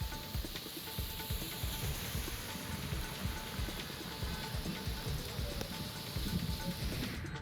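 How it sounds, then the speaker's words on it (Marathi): Heavy unseasonal rain over Amravati city and its rural surroundings makes a dense, steady downpour, spattering continuously on surfaces with no voices. "अमरावती शहरासह ग्रामीण भागात मुसळधार अवकाळी पाऊस पडलाय."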